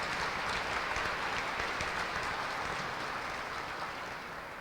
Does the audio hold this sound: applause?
yes